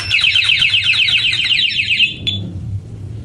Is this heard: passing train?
no